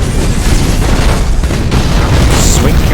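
Torpedo explosions in the space-battle video game Battlefleet Gothic Armada, a dense rumbling boom with a continuous loud low-end roar that persists throughout under a wash of game noise.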